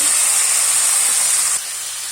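Tomatoes and cashews frying in a hot pan with spices, a steady loud hiss and sizzle that drops slightly in level near the end, with no voices.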